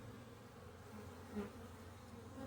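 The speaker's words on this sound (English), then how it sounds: "they're just buzzing around me, trying to see who they're imprinting" Honey bees buzzing steadily around a beekeeper at an open hive, a continuous low drone with one bee passing close and louder midway, no talking.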